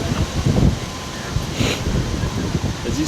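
Outdoor wind gusting against the microphone during a dog training session, a steady low rumble with rustling, loud and close, with a voice faintly present underneath.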